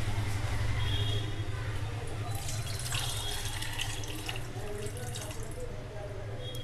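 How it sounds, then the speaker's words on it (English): Water from a glass vessel of soaking amla gooseberries runs and splashes steadily into a sink or container, a continuous close liquid rush with faint dripping. "Now we have to take out half of the water"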